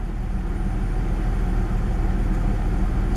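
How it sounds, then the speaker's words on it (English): A car engine idling steadily at about 800 rpm, with the coolant temperature sensor bypassed by a paper clip resistor. The low, even rumble is close and continuous, with no talk. "And that's perfect idling right there at 800."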